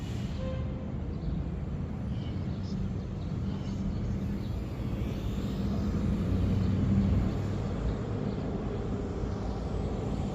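A BetaFPV Meteor 75 Pro FPV whoop drone flies outdoors in a park, giving a continuous, even buzzing drone that holds steady throughout with no break.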